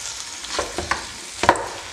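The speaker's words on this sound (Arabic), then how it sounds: "نقصو عليهم ونخليهم يتقلاو مزيان" Chopped onions fry in oil in a pan for traditional Moroccan saffa madfouna, with a soft continuous sizzle broken by a few louder crackles and stirring scrapes.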